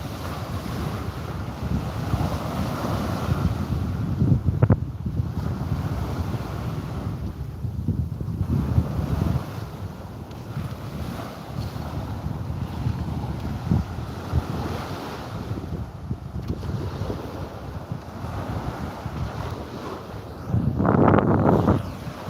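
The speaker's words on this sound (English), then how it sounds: "A little bit less wind, it'd be fantastic." Wind blows hard over a boat on the water, a loud, continuous gusting roar mixed with wave wash that rises and falls in surges, with a stronger gust near the end.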